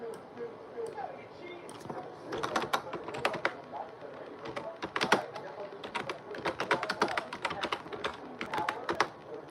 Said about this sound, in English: Sorry, guys, for that typing.